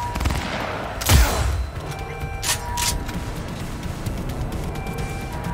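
A single sharp gunshot cracks out in Cyberpunk 2077, followed by a couple of softer bursts and mechanical clatter over a steady game background rumble.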